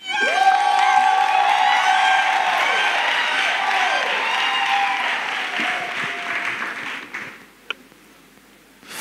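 Church congregation applauding and cheering loudly and close, a dense roar of clapping with whoops and sustained shouted tones over several seconds before it fades and thins out near the end.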